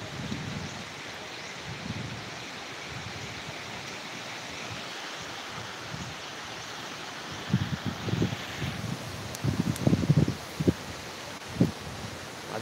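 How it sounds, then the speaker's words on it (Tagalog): Broad, steady rushing of wind through leaves, with louder gusts and rustling bursts toward the end; no voices. "Ang lakas ng hangin."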